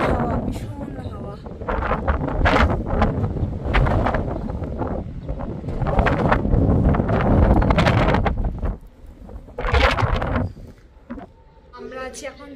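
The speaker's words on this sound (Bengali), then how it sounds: "বাইরে এত বেশি হাওয়া চলছে যে মানে প্রায় 60-70 কিলোমিটার বেগে হাওয়া দিচ্ছে" Strong wind gusts at 60 to 70 kilometres an hour outside a hotel in Jomsom, Nepal, roaring and buffeting the microphone in loud surges with a brief lull near the end, while people talk throughout.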